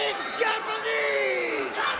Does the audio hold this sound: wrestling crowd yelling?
yes